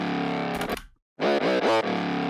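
Distorted 808 bass in a hard trap beat, gliding between pitches: a loud, buzzy sustained tone breaks off into a brief gap, then returns with quick sliding pitch bends before settling.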